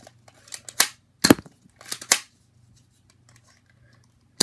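Nerf Reflex front-load blaster fired a few times, sharp close clicks and snaps in a short irregular burst, with quiet pauses between.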